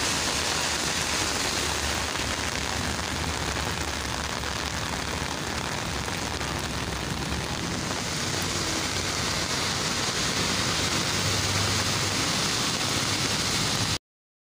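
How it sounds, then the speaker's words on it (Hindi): Long, heavy rain beats down in Taxila, a loud dense roar of water on surfaces that holds steady without a break and without voices. "तवील तरीन बारिश ये है।"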